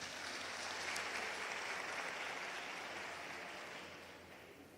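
A warm round of applause at a live youth event in South Africa, heard as a soft, even wash of many hands clapping somewhat at a distance, holding steady and then easing off toward the end.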